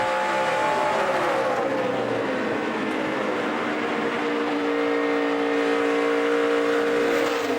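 A NASCAR Nationwide Series race car at speed on the Kentucky racetrack, its engine a loud, steady, high-pitched roar with shifting harmonic whine that holds throughout, close and dense with no pauses.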